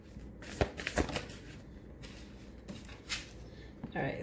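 Tarot cards are shuffled in quick riffling bursts, several brisk rustling flicks close by with short pauses between, during a reading for clarifier cards.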